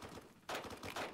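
Two quick bursts of gunfire ring out in the BRM5 military video game during a city attack, fairly faint, with a short pause between volleys.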